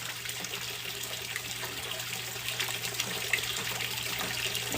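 Rainwater drawn from a rain barrel in a greenhouse trickles and splashes steadily while it is poured to water a potted plant, a continuous soft liquid wash under a faint low hum.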